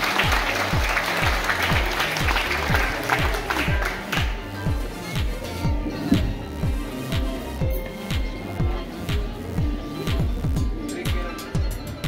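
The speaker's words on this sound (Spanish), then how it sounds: "Un aplauso para Emiliano, por favor." Audience applause at a sixth-grade primary school graduation ceremony, steady clapping from a crowd filling the whole stretch, with a rhythmic low thumping pulse running underneath throughout.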